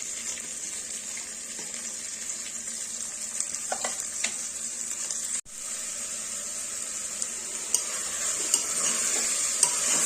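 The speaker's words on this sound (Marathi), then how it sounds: "भाजी छान आपण अशा परतून घेणार आहोत" Steady close sizzle and stirring of potato, green chili, peas, tomato and cauliflower sautéing in a pan, with occasional spoon scrapes and clinks and a brief cut midway, no talk.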